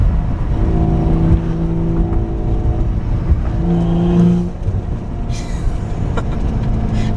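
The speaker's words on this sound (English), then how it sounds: "Wonder what it sounds like with the pipes open." BMW B58 inline-six with a front mount intake and open exhaust pipes drones steadily from inside the moving car, a loud continuous engine hum with a brief swell in pitch partway through.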